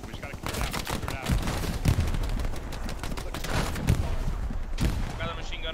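Rapid machine gun bursts and scattered shots ring out in a multiplayer war video game skirmish, loud and dense throughout, with voices on team chat underneath.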